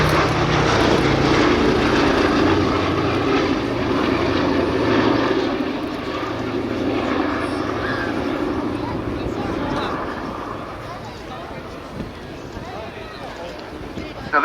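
B-17 Flying Fortress four-engine piston bomber flying at the Cosford airshow, its steady propeller drone loud and continuous, easing slightly as it passes, with a commentator talking over it.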